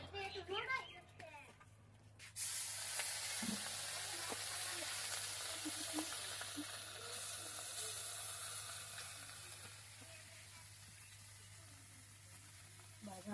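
Spice-coated river fish fries in a pan with a loud, steady sizzle and hiss. A few seconds of a voice come first, with faint clatter of stirring as the frying continues.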